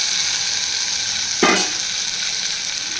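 Medium onions and tomatoes fry in a pan with a constant, fairly loud sizzle, and a brief stirring scrape stands out near the middle.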